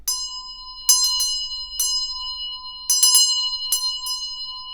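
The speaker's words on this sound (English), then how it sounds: "let's go ahead and use the lovely bell here" A small bell struck repeatedly before a tarot card pull, bright clear dings in two quick clusters of strikes with long ringing tones decaying between them, close and alone.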